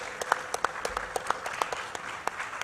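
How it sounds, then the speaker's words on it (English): Scattered applause from a small group at a conference panel discussion, with distinct individual claps in an irregular rhythm. "Please give a round of applause to Excellency Kante."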